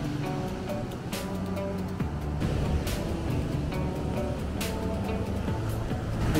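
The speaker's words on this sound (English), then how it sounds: "These waves are big." Big ocean waves on a Lanzarote beach in the Canary Islands make a steady, broad roar of surf, with periodic crashes breaking through at close range.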